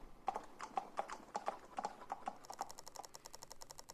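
Saddled horses riding off: quick, steady clip-clop of hooves on hard ground, several animals moving together, clear and close with a faint background hum.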